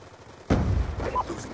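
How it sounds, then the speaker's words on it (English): Gunfire in the Halo video game: a sudden loud, close shot or burst after a short quiet lead-in, followed by a sustained rumbling crackle of continued fire. "He's shooting without a silencer right next to me"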